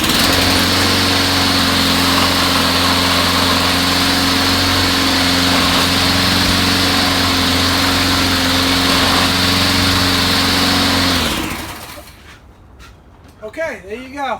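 A Toro 22-inch self-propelled lawn mower engine runs loud and steady at a high, even drone, then cuts off abruptly near the end, leaving quiet with brief faint sounds.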